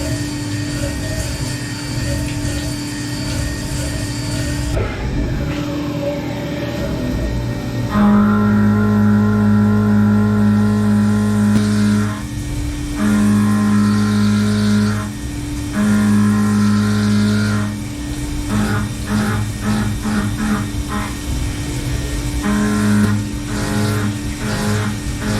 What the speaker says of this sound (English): time to start machining.